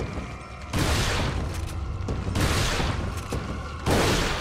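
Gunshots in Resident Evil 4: three loud, heavy booming blasts spaced about a second and a half apart, each with a broad crack and a lingering rumble, up close with no talking.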